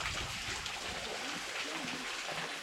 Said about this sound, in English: Got this nice waterfall.